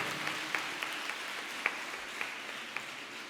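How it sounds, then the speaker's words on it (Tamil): Audience applause at a Tamil Ayudha Pooja debate event, a steady wash of clapping at moderate level with a few sharper claps standing out, no voices. "ஒரு நல்ல கைத்தட்டலை நான் கொடுக்கணும்னு ஆசைப்பட்றேன்"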